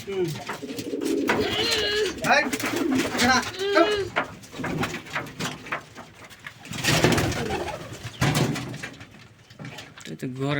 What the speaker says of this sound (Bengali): ওই যে সিরাজি কবুতরের ক্রস